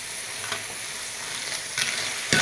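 Clams stir-fried in hot oil in a pan, with a steady bright sizzle throughout and a few sharp scraping stirs of the utensil against the pan, close up and with no talking.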